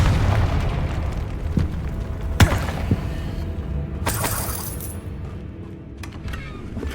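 A Confringo explosion spell in Hogwarts Legacy lands as a sharp boom with shattering debris, followed by another bright burst and crackle amid ongoing game effects and background sound.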